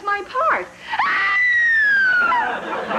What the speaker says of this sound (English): Is that what you were screaming about?